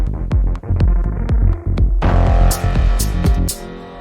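A Muga Fuga delay synced to MIDI makes rhythmic percussive hits repeat faster and faster in stepped musical values, loud and up front, with a brighter, denser texture coming in halfway through.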